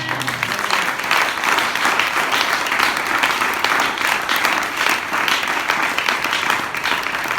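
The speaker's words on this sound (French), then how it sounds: "You want to clap your hands, clap your hands and give it up." A church congregation clapping hands and applauding, a dense, steady wash of many hands that stays loud throughout the stretch and drowns out any other sound.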